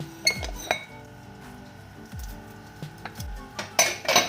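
Metal pot lid lifted off a pot of cooking vegetables for aviyal, an Onam sadya curry, giving a few sharp clanks and clinks of steel cookware scattered through otherwise quiet kitchen sound, with a cluster of louder rattles near the end.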